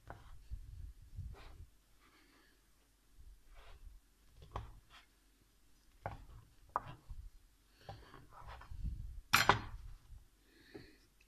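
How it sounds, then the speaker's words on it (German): A knife roughly cuts bread on a board for garlic soup, with irregular dull thuds and scraping strokes, close and fairly quiet, plus one sharper crackly cut near the end. "Das Brot schneide ich eben dann auch einfach"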